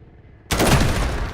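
Gunfire erupts in a first-person shooter video game, a sudden loud, dense burst of rapid shots that cuts in after a quiet rumble and keeps rattling to the end.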